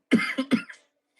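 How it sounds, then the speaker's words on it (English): A short burst of dry coughing, three quick harsh hacks close up, then silence. "have a dry throat cough. It's very bad."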